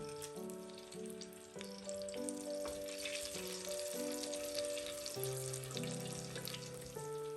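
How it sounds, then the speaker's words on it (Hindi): Fennel seeds and green cardamom fry in hot ghee, with a steady sizzle running under sustained musical tones that carry a melody throughout the clip, and no voices heard. "अब इसमें ऐड करेंगे सौंफ 1 टेबलस्पून, 4 अदद सब्ज इलायची,"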